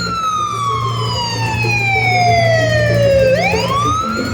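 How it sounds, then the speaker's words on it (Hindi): A loud wailing siren sweeps slowly downward, then jumps back up in pitch, close by over the low rumble of an engine. "एम्बुलेंस आ गई है,"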